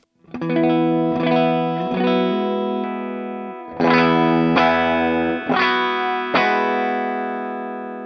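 Electric guitar with a clean, ringing tone strikes several chords that sustain and fade, with gaps between strums and a slightly shimmering effect.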